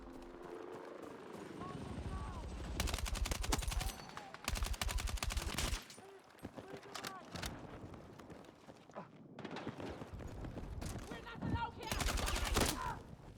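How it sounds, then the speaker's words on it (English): Shotgun and other gunfire in the Battlefield 6 video game, with bursts of rapid shots and vehicle or helicopter noise in repeated loud clusters over a busy battle background. "Shotgun."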